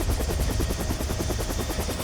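Helicopter rotor thumps steadily and loudly throughout, close and continuous, as the aircraft airlifts a rhino calf slung beneath its belly during a wildlife rescue flight.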